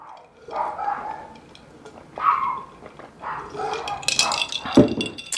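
A dog barks a few times at moderate distance, with scattered clattering and background noise between the barks.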